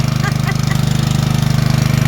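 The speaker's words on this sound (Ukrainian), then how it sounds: "Вимкнули світло, не знаю чого. Завела станцію" A portable power generator, started during a power outage, chugs at close range with a steady, rapid, pulsing rhythm and a deep, even drone.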